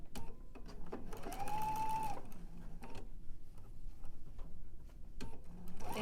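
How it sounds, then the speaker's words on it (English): A sewing machine runs steadily as it stitches down the edge of a partial seam on a fabric piece, a whirring, ticking mechanical hum lasting a few seconds, close and moderately quiet, with no talking. "We're going to start sewing down the edge, and it should be able to overlap this seam."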